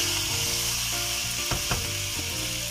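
Biryani rice being fried in ghee, a dense continuous sizzle with a couple of sharp scraping knocks from stirring in the middle.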